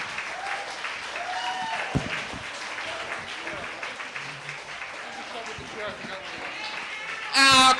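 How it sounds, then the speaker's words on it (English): A comedy club audience applauds a stand-up comedian with steady clapping and scattered voices, ending in a sudden loud burst at the close. "Clap it up."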